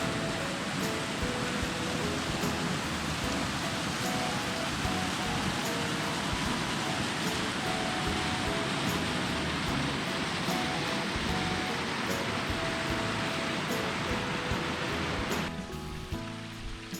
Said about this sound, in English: I got just a little bit of rain coming in.